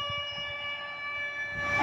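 A police car loudspeaker plays an air raid alert siren on a street, a sustained wailing electronic tone that holds steady with faint background rumble, swelling louder toward the end.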